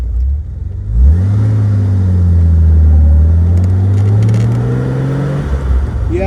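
A classic Jaguar XKE sports car on the road, its engine note rising and falling in a loud, continuous drone as it accelerates and holds speed, heard from inside the car.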